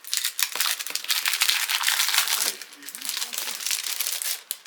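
Sheets from a 30x30 scrapbooking paper pad, double-sided 190 gsm printed paper with vegetable ink plus a printed vellum sheet, crinkle and rustle close up in continuous, fairly loud handling, easing briefly midway before resuming.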